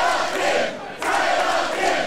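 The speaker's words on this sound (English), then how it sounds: "The crowd knows what they want." A crowd at a wrestling event roars and cheers loudly and continuously, with a brief dip in the noise partway through before it swells again.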